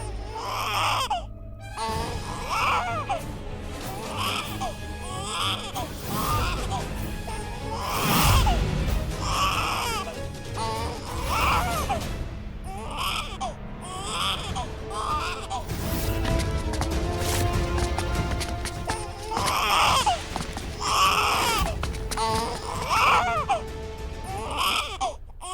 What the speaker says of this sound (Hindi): शायद बच्चे की रोने की आवाज इधर से आ रही है।